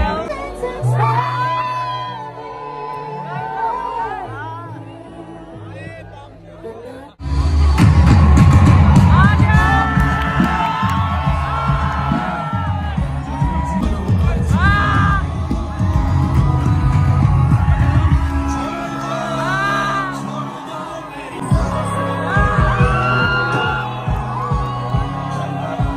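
A large crowd cheers, whoops and shouts at a live campus concert at NSUT, surging loudly after a quieter opening of music and chatter, with the noise staying dense and excited over the backing music.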